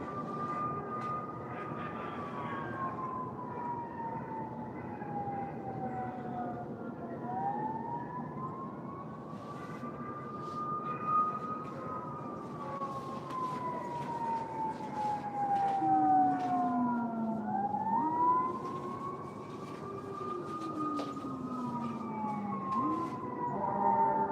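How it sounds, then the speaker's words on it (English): Fire truck and police car sirens wail together at a distance, long rising and falling tones overlapping and sweeping up and down steadily, moderately faint over a low background rumble. "A fire truck and a police vehicle for sure."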